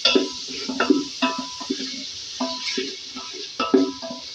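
Spoon scraping and clinking in a pot of mutton pulao as crushed red chilli is stirred in, a steady run of close, light metallic scrapes and taps.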